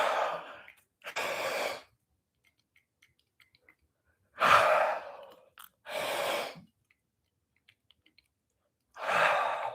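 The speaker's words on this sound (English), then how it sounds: "And then some big yawns as you do this." Big, drawn-out yawns during a fascia-focused movement practice come in several separate bursts of breathy exhaling, close and clear, with silent pauses between and no talking.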